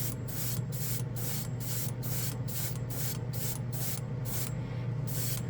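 Black Green Stuff World metal color paint sprays in a rapid series of about a dozen short, loud hissing bursts, misted on from a distance.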